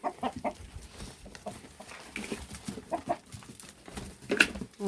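Chickens in a home garden cluck and squawk in scattered bursts, with a few sharper calls standing out over steady farmyard background.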